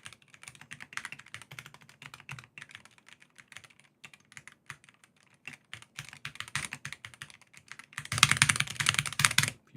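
Someone types on a Razer keyboard with bright, pingy keys and Tetris-themed keycaps, producing rapid close-up clicking keystrokes in uneven bursts that grow louder and denser near the end.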